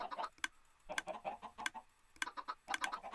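Chickens in a Minecraft chicken farm cluck in quick, clipped bursts, several clusters of short game-sound calls one after another at moderate volume.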